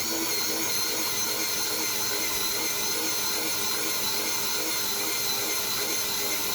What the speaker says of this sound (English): And an electric screwdriver.